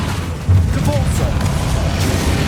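Repulso spell blast in the Hogwarts Legacy video game, a heavy low boom striking abruptly amid dense game combat noise, with voices in the background.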